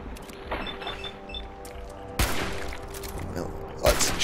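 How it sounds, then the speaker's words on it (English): Gunfire in the Fallout 4 video game sounds as sharp sudden bursts, with two loud shots standing out among softer mechanical clicks and background game noise, while voices are also present. "Someone else is shooting too."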